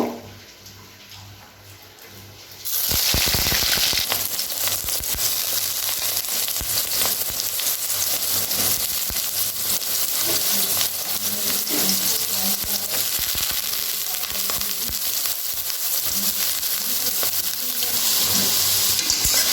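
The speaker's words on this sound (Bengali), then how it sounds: "সোয়াবিনটাকে লাল লাল করে ভেজে নেব।" Soaked soybean chunks hit a hot pan and burst into a loud, close, continuous sizzle after a quieter opening, with faint stirring scrapes running through the steady hiss.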